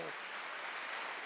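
Sustained, dense clapping rises from a church congregation during a Wednesday worship service, a loud, steady wash of many hands at close range with no clear voices above it.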